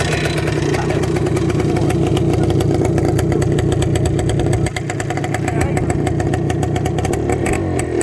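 A big-bore two-stroke Yamaha DT400 motorcycle engine runs loudly and continuously nearby, a buzzy, crackling idle with slight throttle variation throughout.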